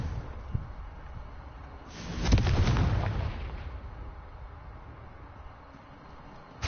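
A Confringo blasting spell from the Hogwarts Legacy video game detonates in a single booming explosion that swells and rumbles for about a second before fading back into a quiet background.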